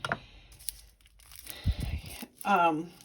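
A sprouted onion is picked open with a fingernail: faint close scratching and tearing of papery skin in short bursts, with talking in between.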